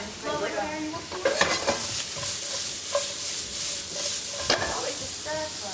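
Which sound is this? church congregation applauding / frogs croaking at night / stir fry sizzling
stir fry sizzling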